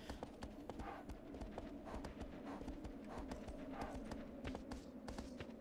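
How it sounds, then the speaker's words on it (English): Horse hooves gallop in the Shadow of the Colossus video game, a quick, steady clip-clop rhythm that runs throughout at moderate loudness with no talking over it. "Horse goes faster every time you kick."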